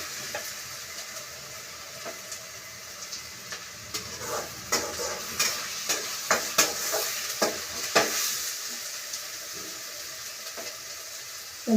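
Garlic and ginger paste fries in a pan as a spoon stirs it. A soft sizzle runs underneath, broken by a series of sharp scraping strokes that get busier through the middle, and no voices are heard.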